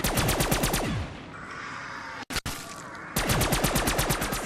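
Gunfire in Call of Duty Zombies on the Giant map: rapid automatic bursts with evenly spaced shots, a stretch of rumbling game noise with a brief cutout, then the fast firing resumes, loud and with no talking.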